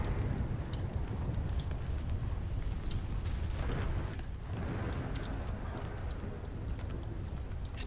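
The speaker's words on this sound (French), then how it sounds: "Ce petit bruit de grêle, il est gigantesque." Hail pelts down steadily in the video game Subnautica: Below Zero, a dense, continuous rattling hiss with faint scattered ticks throughout.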